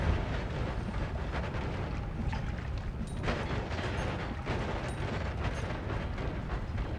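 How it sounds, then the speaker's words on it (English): Continuous booming blasts like fireworks in the video game Noita, a thick low rumble with irregular sharper cracks popping through every second or so, loud and sustained without any voices. "Complimentary fireworks show."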